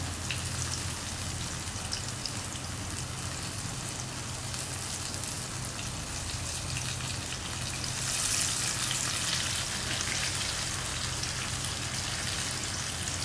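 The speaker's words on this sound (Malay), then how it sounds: "kita masukkan dekat dalam deep fryer" Sweet potato fritters (cucur badak) fry in a deep fryer with a dense, continuous crackling sizzle of hot oil, steady and close for the whole stretch with no talking over it.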